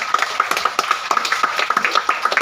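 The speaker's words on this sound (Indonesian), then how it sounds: "Tepuk tangan untuk Tuhan Yesus." A church congregation claps together in a steady, fairly brisk rhythm, the sharp hand claps blending into a dense, even patter that carries on throughout with no voices on top.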